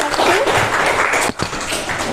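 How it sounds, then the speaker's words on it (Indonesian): A short burst of classroom applause, dense clapping from a group of students lasting about two seconds, close and fairly loud. "Tepuk tangan."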